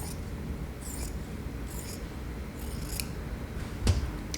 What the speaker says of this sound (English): and then cut the dart open.